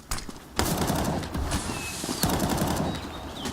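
Rapid bursts of M4 rifle fire during a professional Counter-Strike match on the Overpass map, loud, dense crackling shots in quick succession mixed with other game gunfire and noise.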